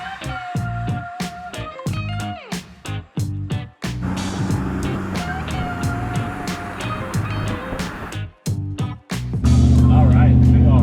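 A Mercedes-Benz with a swapped 6.2L LS3 V8 drives on the road, its engine droning and rising through gears as it accelerates, with loud cabin and road noise and brief pauses between pulls.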